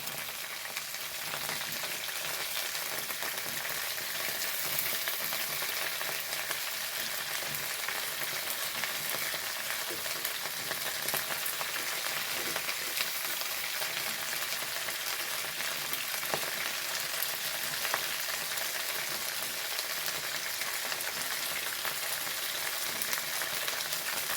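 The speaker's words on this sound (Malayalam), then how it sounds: "അതിലേക്ക് ഒരു മൂന്ന് പച്ചമുളക് കീറിയിട്ട് കൊടുക്കണ്ടേ വാട്ടാൻ" Three slit green chillies fry in hot oil in a pan while a sambar is being cooked, giving a steady, even sizzling hiss that lasts throughout with no talking.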